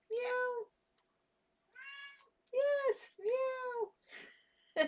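A cat meowing repeatedly, several clear, drawn-out meows close by with short pauses between them.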